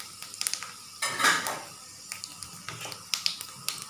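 Bay leaf, dried chili, cloves, cinnamon and cardamom dropped into hot oil, giving a brief burst of sizzling among sharp clinks and scrapes of a utensil against the pan, close and fairly quiet.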